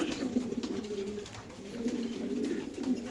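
Racing pigeons at a loft coo steadily in low, rolling phrases, close by over a constant background murmur, with no speech.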